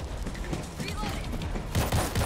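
Gunfire in the video game World War Z, in a New York tunnel level, as rapid bursts of shots rattling over a dense, noisy mix, growing louder and sharper in the last half second.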